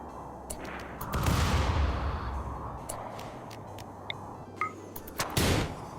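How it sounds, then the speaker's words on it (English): A large cannon fires in the RimWorld video game, two heavy booming blasts about four seconds apart, loud and close, each followed by a rumbling tail, with smaller sharp impacts scattered between them. "Whoa, that's a big cannon."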